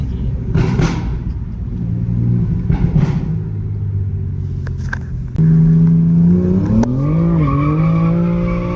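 A BMW F80 M3 with midpipes revs and its tires squeal in sustained, rising screeches, with engine rumble throughout, loud and close.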